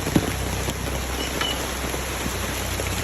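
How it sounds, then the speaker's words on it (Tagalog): Heavy rain pours down steadily outdoors, a dense, loud, unbroken hiss of drops on surfaces that fills the whole stretch with no pauses. "Naulan nga, inabot nga kami ng ulan. Lakas ng ulan oh."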